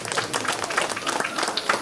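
An audience at a rural avocado and guarapo festival in Pachamarca claps to welcome an engineer, brisk scattered hand claps close by with some crowd noise mixed in.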